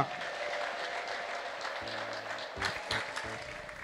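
Clapping at a church healing gathering, with a steady wash of crowd applause and a few sharper, louder claps near the end. No clear ululation stands out; no speech.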